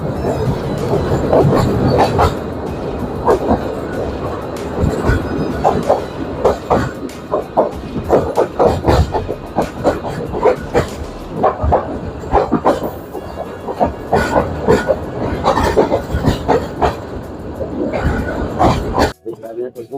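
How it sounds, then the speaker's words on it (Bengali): A train entering Laksam rumbles along with rhythmic clattering and periodic knocks, loud and close, while someone talks over the noise throughout. "ট্রেনটি এখন লাকসামে প্রবেশ করেছে"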